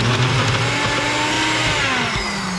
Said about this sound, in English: I do have a NutriBullet, and I find this thing to be pretty powerful